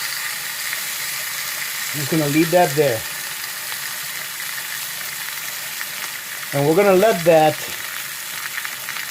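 Steak frying in olive oil in a pan, a steady low sizzle running beneath a man's speech throughout.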